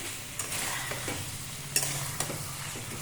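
Chicken pieces are tossed through chili sauce in a hot pan, a continuous close sizzle with a few sharp scrapes of the spoon as the meat is mixed.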